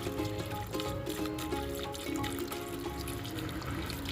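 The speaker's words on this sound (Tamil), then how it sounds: "வேகிறதுக்கு தண்ணி சேர்த்துடலாம்." Water poured into a cooking pot holding washed lentils, a steady close splashing and trickling stream running continuously without pause and with no talk.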